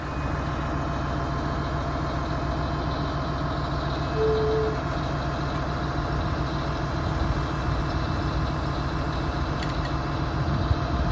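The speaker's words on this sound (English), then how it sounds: "Nice big Volvo FH16 on the front of it. 650 horsepower." Steady, loud, close diesel rumble from a 650-horsepower Volvo FH16 truck idling on a farm, an even drone that holds for the whole stretch with a brief faint tone partway through.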